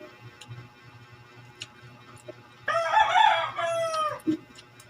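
A rooster crows once, loud and near, in one long drawn-out call over faint background clucking from chickens at a countryside farm.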